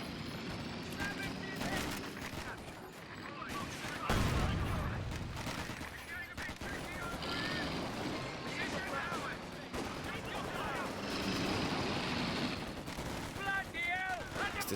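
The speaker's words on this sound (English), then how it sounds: "Vickers doing quite a bit of damage there to the rear of the flak as well" A Vickers machine gun fires during a Company of Heroes 2 match, with repeated rattling bursts and booming impacts mixed into dense battle noise, while a commentator talks continuously over the gunfire.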